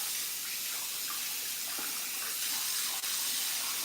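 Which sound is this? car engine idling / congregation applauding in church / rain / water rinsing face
water rinsing face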